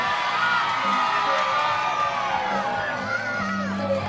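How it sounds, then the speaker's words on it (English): A wrestling crowd at Bexleyheath cheers for the champion at a title match, a dense and steady roar of whoops, shouts and yells filling the hall with no break. "Crowd here at Bexleyheath, big time behind the champion."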